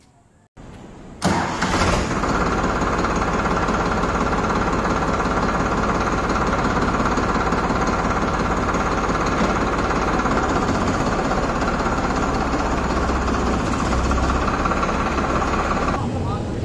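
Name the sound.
tractor engine running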